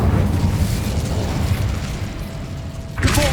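Incendio fire spell cast in Hogwarts Legacy at a sealed door, a heavy rumbling burst of flame with crackling texture that lingers, then a sharp new impact near the end.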